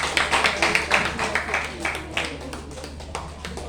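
Applause for two poets at a Bengali magazine launch, a modest audience clapping in quick irregular bursts that fade gradually, with some talk mixed in.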